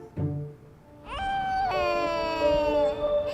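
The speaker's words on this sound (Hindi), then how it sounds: "ये आवाज सुनी? ये बच्चे के रोने की आवाज इस घर में।" A baby cries inside a house in an Indian TV drama, beginning with a brief whimper and then rising into a sustained, wavering wail that carries loud and close with no talk.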